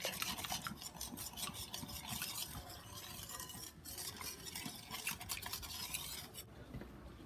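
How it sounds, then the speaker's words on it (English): Cocoa powder, vanilla extract and red food coloring whisked together in a bowl for red velvet French toast filling, a steady scraping, rasping stir with rapid metallic clicks, close and continuous until it stops just before the end. "we're going to whisk all these together until it's well incorporated"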